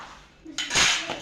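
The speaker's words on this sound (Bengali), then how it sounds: "এই যে আমি বাঁধাকপিতে দরদরা মশলাটা ঢেলে দিয়েছি, এগুলো সব একসাথে মিক্স করছি" Spiced cabbage with coarse masala and salt gets mixed in a pan, giving a brief clatter of utensil against metal, close and sharp, over about a second.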